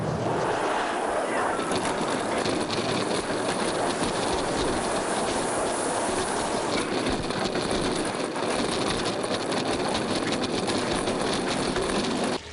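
A continuous loud rumble and roar of a roller coaster train rolling along its track at Disneyland Paris, with steady clattering and wind noise throughout.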